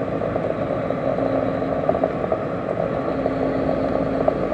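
A generator engine with a few hundred hours of use runs steadily and smoothly, giving a continuous close hum with no other sounds.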